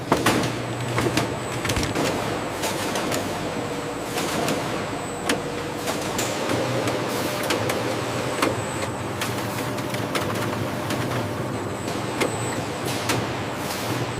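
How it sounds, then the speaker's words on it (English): A watermelon dicing machine on a factory line cutting de-seeded pulp, a continuous mechanical hum with steady clatter and sharp periodic clanks, no talk. "Watermelon pulp enters the dicing machine, ready for precise transformation."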